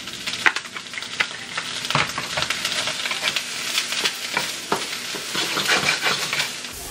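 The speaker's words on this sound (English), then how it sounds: "I'm gonna grill up vegetables" Vegetables seasoned with Mrs. Dash and a pinch of garlic salt sizzle steadily in a hot pan, with frequent utensil scrapes and stirring clicks breaking through the close, continuous frying hiss; no one speaks.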